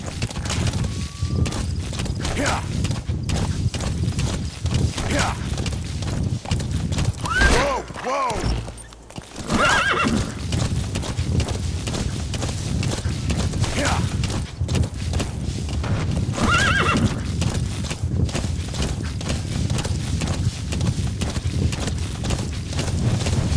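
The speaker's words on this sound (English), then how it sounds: "He's your horse for traveling long" Horse hooves clip-clopping in Metal Gear Solid 5: The Phantom Pain, a steady rhythmic trot under continuous game ambience, with a brief louder burst midway that may be a whinny.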